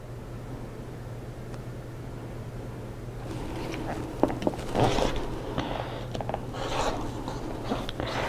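A rotary cutter slices quilting fabric along a ruler, a few soft scraping cuts and rustles after a quiet start, close and fairly faint.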